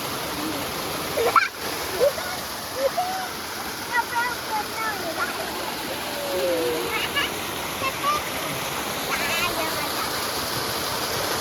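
Water pours and splashes steadily from a waterfall-style shower, drumming down, while people talk and call out over the rushing noise.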